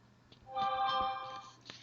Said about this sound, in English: I'm getting a lot of text messages next to me.